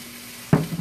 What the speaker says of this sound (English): feel that sizzle